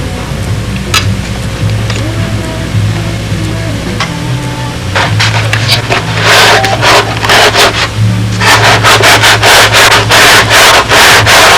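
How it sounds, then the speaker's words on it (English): Steady rubbing and scraping of a sanding block truing a carved wooden model airplane cowling, growing into rhythmic back-and-forth strokes, close and fairly loud over a low engine-like hum. "I need to true this surface up with a sanding block"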